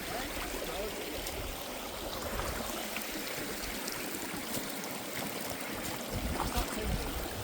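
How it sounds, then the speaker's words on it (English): Steady rushing and trickling of a hillside stream in the Peak District, with boots being washed in the flowing water; the broadband water noise runs continuously and close, with no talk. "I am thinking, wash my boots."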